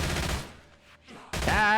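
Gunshots in a zombie video game, a quick burst of rapid loud shots at the start, a short near-silent gap, then another burst with a ringing tonal tail, close and loud with no speech.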